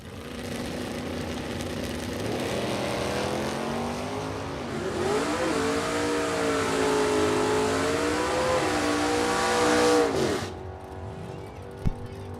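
A 1969 Chevrolet Camaro Z28 bracket racer and its rival launch at a drag strip, and their engines roar up through the revs in a loud, rising, wavering howl that cuts off abruptly, with an announcer talking over it.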